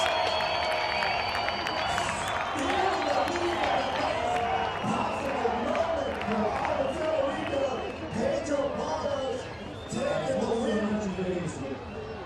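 Crowd at a skateboard bowl final cheers, shouts and applauds continuously, a dense roar of clapping and whoops lasting throughout, with voices calling out amid the noise.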